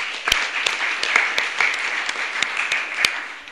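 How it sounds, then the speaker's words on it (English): Audience applause at a San Diego press conference comes as scattered, distinct hand claps over a steady background murmur, sparse and moderately close rather than a full ovation. "So give yourselves a round of applause"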